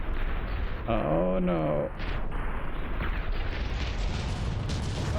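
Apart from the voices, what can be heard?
battleship guns firing in From the Depths video game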